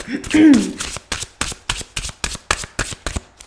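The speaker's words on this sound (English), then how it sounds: "I'm going to shuffle a couple more times, and we're going to see if the cards want to start" A deck of cards is riffled and shuffled again and again in quick, even bursts, close and crisp, after a brief voice at the start.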